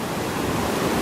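Flooded Tunnel Brook rushes past in a loud, dense, unbroken roar of churning water, heard up close without any voices.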